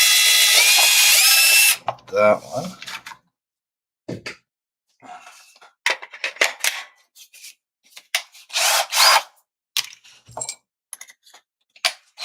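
A power drill bores straight through the center of a small workpiece, a loud sustained whir for under two seconds, then scattered clinks, scraping and handling sounds with a brief spoken remark.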